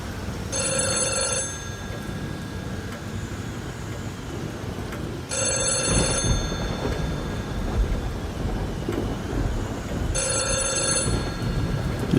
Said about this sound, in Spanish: de un momento a otro comenzó a sonar el teléfono de la planta baja